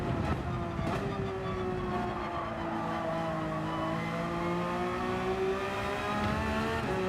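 A race car engine in Gran Turismo 7 holds a sustained high revving drone with shifting pitch as it climbs and eases through corners, loud and close, with a faint tire squeal and no talk.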